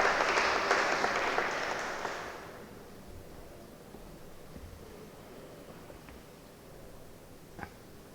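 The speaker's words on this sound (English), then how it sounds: "Can I have a big round of applause for him, please?" An indoor audience at a law seminar on advocacy and AI claps for a speaker, a dense burst of applause that fades out after about two seconds and leaves quiet room tone.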